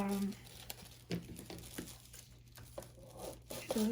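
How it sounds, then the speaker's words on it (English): Adhesive tape is pulled off the roll and pressed onto a doll dress form in a string of close crinkling and tearing sounds, with a person talking over it. "I'm going to put a long piece of tape along here"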